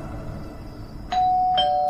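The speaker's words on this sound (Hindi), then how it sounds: "तभी उसे डोरबेल सुनाई दी।" A doorbell chimes twice in a house at night, two clear bright tones, the second following soon after the first, over a faint background hum.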